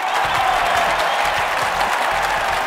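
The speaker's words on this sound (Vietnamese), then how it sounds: "Một tràng vỗ tay thật lớn ủng hộ tinh thần thấy anh được không ạ?" A television game show studio audience breaks into sustained applause, a dense, even wash of clapping hands that carries on steadily without a break.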